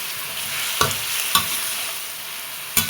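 Fried catfish is stir-fried in green curry with kaffir lime leaves, a soft continuous sizzle broken by three sharp scrapes of a spatula against the pan, close and without speech.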